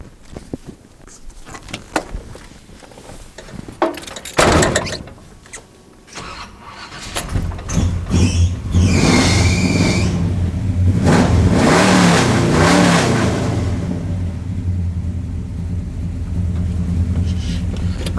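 A flooded 350 Chevy engine cranks with sputtering, uneven bursts before it catches, then settles into a loud rumbling idle with some rising revs, heard up close.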